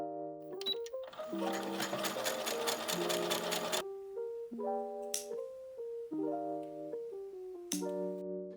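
A sewing machine stitches a buttonhole on fabric for a child's summer top bodice, running in several short, fast mechanical bursts separated by brief pauses, close and clear with no talking.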